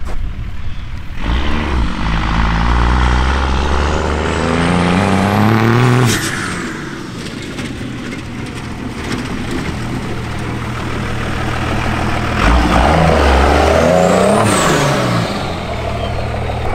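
A loud Cummins diesel engine swapped into a Chevrolet K30 truck revs hard, climbing to a whining peak and dropping back, then rises again in a second surge.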